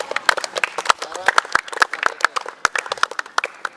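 Students in a school class clap their hands together in quick, uneven bursts, with sharp claps scattered across the clip and a lively room of young voices talking underneath.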